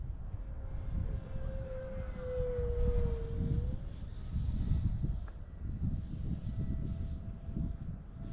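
A small delta-wing stealth drone cruises overhead at about 12 to 13 mph, its thin motor whine holding steady, then climbing in pitch over rumbling wind buffeting, fairly faint and with no talking.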